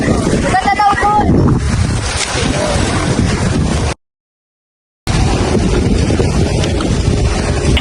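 Strong wind roars and buffets the microphone almost continuously, broken by about a second of total silence midway.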